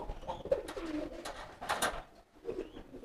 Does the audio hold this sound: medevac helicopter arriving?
no